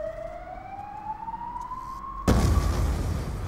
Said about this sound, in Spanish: ahí está pasando una ambulancia